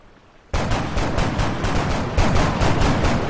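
Gunfire in XCOM: Long War starts abruptly after a short quiet lead-in, then sustained rapid bursts of automatic shots repeat in a steady rhythm, loud and close.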